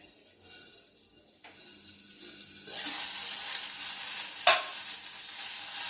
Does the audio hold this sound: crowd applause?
no